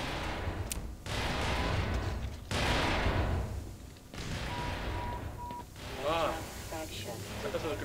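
Grenades rolled and exploding in the video game Black Mesa, heard as several loud bursts with broad noisy tails, spaced a second or two apart, followed by chirping tonal effects, with game sounds mixed underneath.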